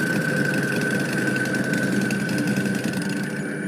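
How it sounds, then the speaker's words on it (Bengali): Motorbike engine in a Bengali horror cartoon, idling with a steady mid-pitched drone and constant vibration, loud and close throughout with no talk. "রিফাত বাইকটা নিয়ে বেরিয়ে পড়ল।"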